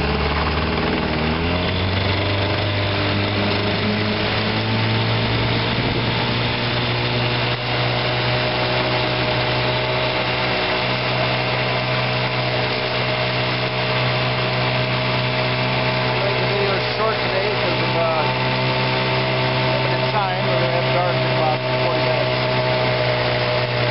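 A 1958 Johnson 5HP outboard motor runs steadily at a loud, even drone with a buzzing, whining tone, and someone talks over it.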